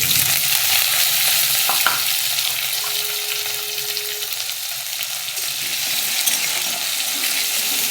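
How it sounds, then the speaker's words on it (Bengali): Chopped onion fries in tempered oil with dry and green chillies, a loud, continuous close sizzle with a few spatula knocks early on and a faint tonal hum in the middle. No one speaks. "ফোড়ন তেলে পেঁয়াজটাকে একটু লাল করে নিচ্ছি।"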